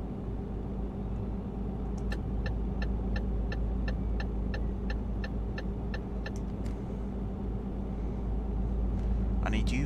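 Steady, loud engine rumble of a truck being driven in Euro Truck Simulator 2, with a run of evenly spaced ticking clicks like an indicator over it and a player talking throughout.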